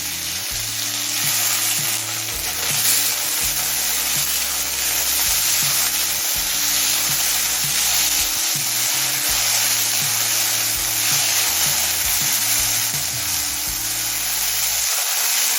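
Medium-sized potato frying in hot oil with black cumin and dried chilli, a loud, continuous sizzle with occasional stirring, sustained throughout with no voices.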